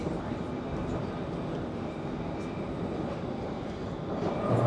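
A London Underground train in motion on the stretch shared with the Jubilee line, a continuous rumbling and rattling ride noise with a low hum, swelling louder at the end.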